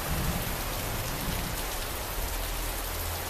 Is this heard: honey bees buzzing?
no